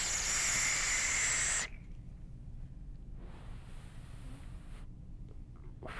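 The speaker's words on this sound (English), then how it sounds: "we're gonna take a vape on it and see what this thing is all about" A Vandy Vape Phobia RDA fired at 110 watts with the airflow wide open gives a loud, steady hiss for about a second and a half, then cuts out, followed by a few faint breathy puffs.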